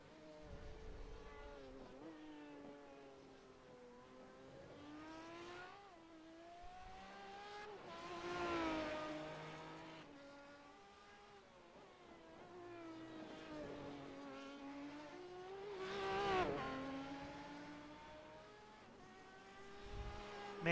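Race cars, including an Aston Martin, scream along a road course in the Legacy Sports Car Series at Montreal, engines rising and falling in pitch as cars pass in succession, loud and continuous with repeated revving sweeps.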